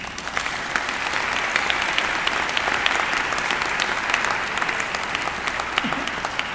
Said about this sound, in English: Can we give you all a round of applause?